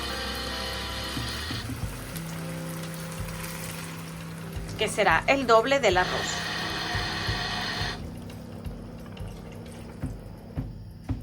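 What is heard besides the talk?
water poured into pot with rice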